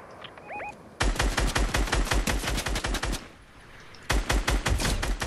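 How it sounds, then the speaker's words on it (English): Rapid automatic gunfire in a Fortnite battle: a long, loud, dense burst of shots, a short lull, then another close burst of rattling fire. "He's shooting rockets at us."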